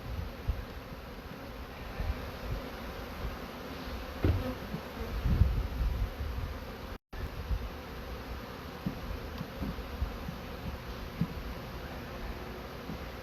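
Honeybees humming inside a 5-frame nuc hive fitted with an inline feeder, a low continuous drone heard up close, with faint rustles and a few soft knocks from the box.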